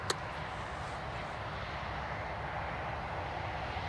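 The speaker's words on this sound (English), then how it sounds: "Emirates just over your house at 500 feet" An Emirates airliner passes low over Newcastle Airport, heard as a steady, broad engine roar holding at an even level throughout, with a sharp knock near the start.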